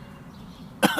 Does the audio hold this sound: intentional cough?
yes